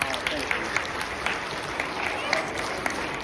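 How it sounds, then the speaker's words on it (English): Children and adults applaud a guest speaker at an elementary school assembly, steady sustained clapping with a few sharper individual claps standing out, moderately loud and even across the clip. "Give him a big round of applause."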